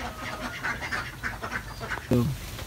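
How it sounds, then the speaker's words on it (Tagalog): Ducks quack on a duck farm, a steady murmur of flock calls with one louder, nearer quack near the end, and faint human voices in the background. "Tuloy po kayo para makita nyo po yung aming mga itik."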